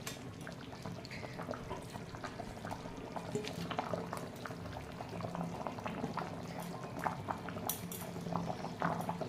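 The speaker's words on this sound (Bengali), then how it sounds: "ডিমের ঝোল ফুটে গেছে দেখো।" Roe curry bubbling in a pan, a steady close simmer of liquid with scattered pops and occasional faint clinks of utensils, continuous throughout with no talking.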